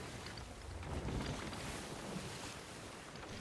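A sailing ship moves over the open sea in the Sea of Thieves video game, giving a steady, fairly quiet wash of water and wind noise with no voices.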